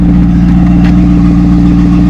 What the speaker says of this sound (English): let's take a little quick listen to the exhaust note.